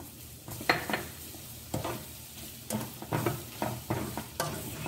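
Cheese for kuymak (muhlama cheese) stirred into toasted flour in a pan, with a steady frying sizzle broken by repeated scraping strokes of the spoon, close and fairly loud, without any voices.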